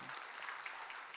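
Congregation applauding together during a Sunday church worship service after a praise team's singing, a brief, dense wash of clapping from the room.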